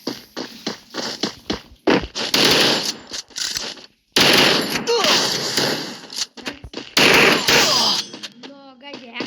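Rapid video game gunfire, loud repeated bursts of automatic shots broken by short silences, close and sharp, with a player talking over parts of it.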